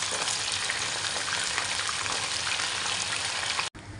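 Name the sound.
frying potatoes and carrots in oil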